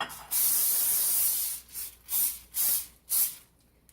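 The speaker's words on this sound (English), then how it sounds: "I'm going to just put a little cooking spray in there" A cooking spray can hisses into an 8 by 8 baking pan in one long spray, then three short bursts, close by with no talking.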